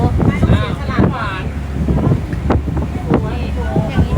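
Wind buffets the microphone steadily on a boat ride over water, with a low rumble throughout. A person talks over the gusts.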